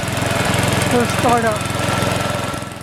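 A Snow Thrower III snow thrower engine runs steadily close up, with a fast, even putter that holds throughout while someone speaks briefly over it.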